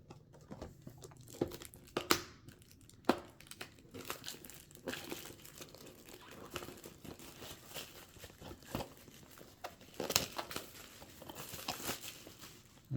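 Crinkling plastic and cardboard packaging being torn and unwrapped from an Arkham Horror board game expansion, with scattered close rustles, crunches and tearing bursts over about thirteen seconds, no talking.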